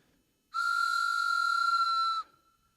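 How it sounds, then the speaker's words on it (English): A handheld train whistle gives one steady, clear, high blast lasting almost two seconds, loud and close, with no voices around it. "This is a train whistle."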